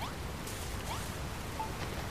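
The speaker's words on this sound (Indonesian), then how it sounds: "Hujan lagi." Steady rain falling in Dragon Quest Builders 2, a dense, even hiss of drops that holds without a break through the whole stretch, with a few faint game tones chiming softly underneath.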